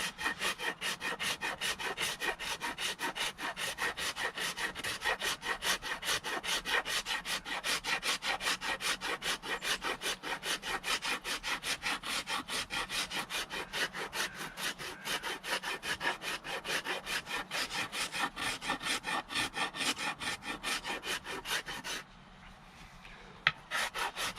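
Hand rasp filing a wooden axe handle in a rapid, steady rhythm of close, loud rough scraping strokes that run continuously, with a brief pause near the end before the strokes resume.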